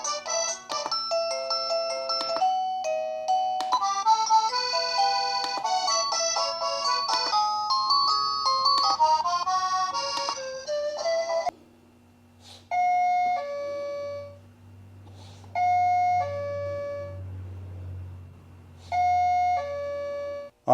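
A SECRUI wireless door chime plays through its melody tones indoors, first a dense run of bright musical bell notes, then several short chime sequences separated by pauses, with faint handling noise.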